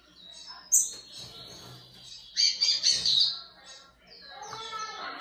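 A small black-billed seedeater bird sings close by, with bright high chirps and trills in short bursts over a few seconds, fairly loud against a quiet background.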